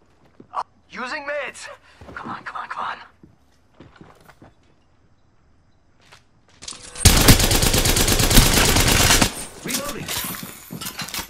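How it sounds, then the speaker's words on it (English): Sustained burst of automatic gunfire from enemies in the Apex Legends video game, loud and dense for a couple of seconds, with voices talking before and after it. "The enemies are shooting at me."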